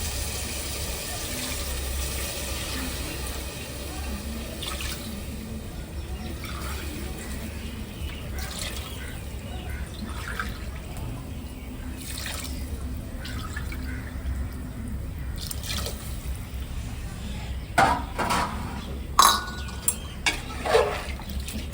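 Water trickles and pours steadily into a container of rice for biryani for a long stretch, with a few sharper splashes and drips near the end.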